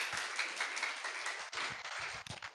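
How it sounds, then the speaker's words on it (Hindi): Congregation at a Christian healing prayer meeting applauds loudly in praise, a steady dense wash of clapping for a couple of seconds with small dips and a few sharper claps near the end. "जोर से ताली बजा के प्रभु की महिमा करेंगे"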